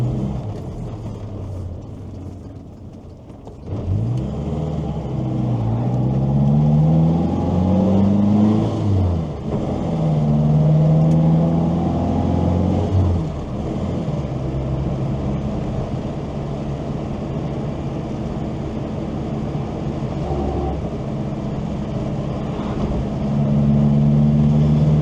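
A Morris Minor car driving along an English country road, its engine a low steady hum that rises and falls through gear changes and acceleration, close and continuous without talk.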